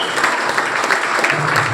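An audience at a speech in RC Puram, BHEL, claps in a dense, even wash of applause that runs unbroken throughout, fairly loud and close, with no clear voices.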